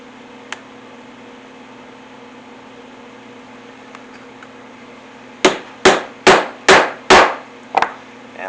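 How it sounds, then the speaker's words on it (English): Six sharp hammer blows drive a 1/8 inch hole punch through two stacked pieces of leather, evenly spaced and loud, after several seconds of quiet background hum. "I'll go ahead and punch through both pieces"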